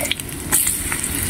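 Dry prawns fry with garlic in a hot pan, making a steady close sizzle and occasional stirring clatter for a moment, with no voices.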